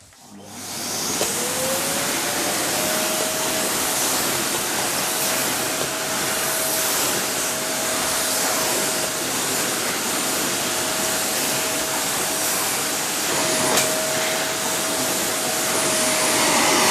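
A Samsung vacuum cleaner switches on and runs loud and steady, a constant whooshing roar with a high whine held throughout.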